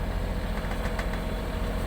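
Sailboat's engine running steadily under a double-reefed mainsail, a continuous close mechanical drone with rumble and broadband noise filling the whole stretch.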